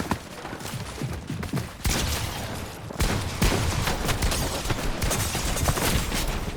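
Rapid bursts of gunfire in the Fortnite video game, dense and continuous with sharp cracks and thuds, growing louder after a brief dip and sustained to the end.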